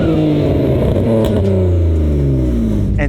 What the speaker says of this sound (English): let's check out how this BMW 335i sounds